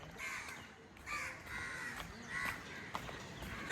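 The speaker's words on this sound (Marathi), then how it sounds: "पक्ष्यांची मजबूत अशी किलबिलाट आहे" Crows caw repeatedly on Mumbai's elevated nature trail, harsh calls rising every second or so over a quiet, airy background with no talking.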